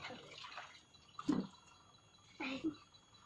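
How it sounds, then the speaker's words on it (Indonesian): School clothes are washed by hand in water, giving two separate bursts of sloshing and dripping, quiet and close, with a faint voice nearby. "Ini aku lagi nyuci baju sekolah dulu ya"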